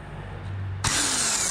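Pneumatic impact gun on front brake caliper bolts of a Mini Cooper R50/R53, a single loud burst of whirring rattle that starts abruptly and runs on steadily, close to the listener, with no talk.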